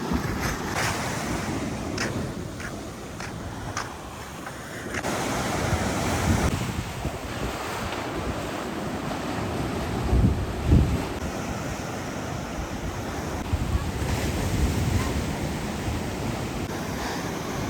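Sea waves wash onto North Beach at Bridlington as the tide falls, a steady loud surf roar with gusting wind buffeting the microphone throughout, no voices.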